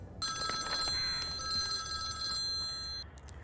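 A telephone bell rings with bright, steady electronic tones, two long bursts separated by a brief gap, clear and fairly close in a quiet room.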